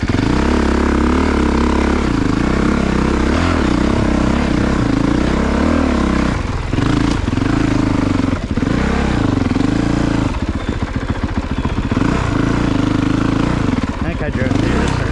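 A 2022 Honda CRF450RX dirt bike rides off-road at an offroad park in Indiana, its engine droning loud and close and rising and falling with the throttle, while a rider talks over it.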